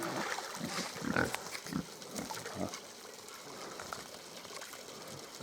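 A Mangalica pig splashes and wallows in water, with wet sloshing bursts and a few low grunts over steady outdoor background noise.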